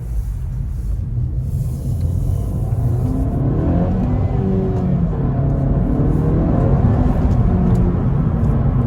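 A Honda Civic 1.5 VTEC Turbo accelerating on a road in damp morning conditions, its engine note rising steadily as a continuous loud rumble with rising engine harmonics, heard from inside the car.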